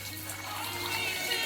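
Water pours steadily into a pot for boiling potato wedges, a continuous close splashing fill with a faint hum underneath.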